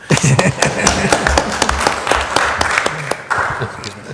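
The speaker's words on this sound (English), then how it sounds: "And You guys can applaud now, too." Audience applause at a community services district board meeting, a dense burst of clapping from a small room crowd, loud and close, with some voices mixed in.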